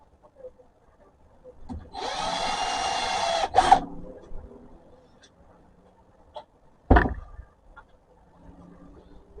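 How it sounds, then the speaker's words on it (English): A power drill bores a small pilot hole into wood with a steady whir of about two seconds, followed by a short burst and a sharp knock a few seconds later, in a quiet workshop. "Now it's going to drill a small pilot hole"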